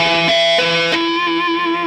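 Electric guitar played with heavy distortion through a Marshall Valvestate VS100 combo amp: a few sustained, buzzing notes, each struck and held before shifting to the next, ending on a long ringing tone, loud and close.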